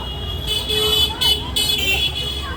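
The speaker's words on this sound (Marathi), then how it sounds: "इकडची लोक खूप हॉर्न वाजवतात" Street traffic in Indore's Sarafa Bazaar area, with several short car horn toots sounding in quick succession over a busy roadway hum, a voice briefly audible.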